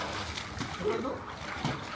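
A man wades into a villa pool to swim, stirring up a steady, close wash of splashing and churning water with faint background chatter.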